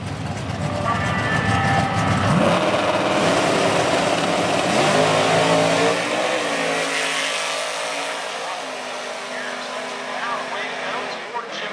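Drag racing cars, including an '84 Monte Carlo, launching at Motion Raceway, a loud sustained engine roar that rises in pitch through the gears and slowly fades, with an announcer talking over it.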